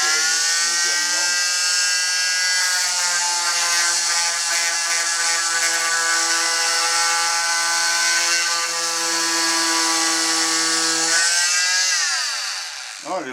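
A Skil multitool sands a cupboard door being turned into a mirror, a loud, steady, high-pitched buzzing whine held for about ten seconds, winding up at the start and winding down at the end, close by.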